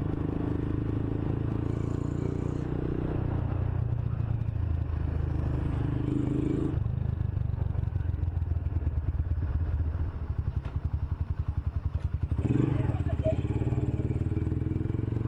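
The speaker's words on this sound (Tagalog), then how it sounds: "Ganda lang tunog ng tambucho." A motorcycle with an Akrapovic M1 exhaust idles with a steady, throaty exhaust rumble, briefly revving higher near the end, with occasional light clatter.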